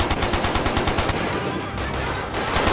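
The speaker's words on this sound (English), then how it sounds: "I can use the turret." Rapid automatic turret gunfire in the video game 007 Quantum of Solace, a loud, continuous stream of close shots hammering without pause.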